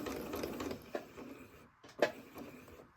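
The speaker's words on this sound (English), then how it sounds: "Take a couple stitches and do a little back stitch, and just go all the way around." A home sewing machine stitches through fabric scraps, backstitching briefly before sewing around the piece, giving a close, quiet mechanical whir with short ticking bursts and pauses.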